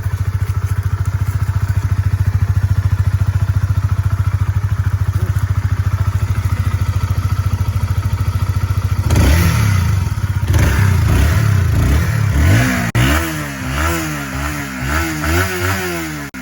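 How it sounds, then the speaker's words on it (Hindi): A Honda CBR 150R motorcycle engine idles with a steady, thumping low rumble, then revs up and down several times in rising and falling bursts, close and loud. "तो ये था भाई ऑरेंज वाली का इंजन का साउंड।"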